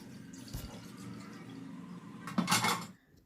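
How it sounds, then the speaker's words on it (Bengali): Chhana (cottage cheese) curdled with vinegar being rinsed under running water at home, with a steady low trickle, a brief clatter of a dish, and a louder splashing gush near the end before it stops. "ছানাটাকে ভালো করে আগে ধুয়ে নিতে হবে তো মা ধুয়ে নিল"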